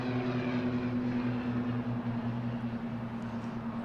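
An airliner passes low and directly overhead at Boston Logan International Airport, a steady loud engine drone with a strong humming tone that holds throughout, close and continuous, with no talk.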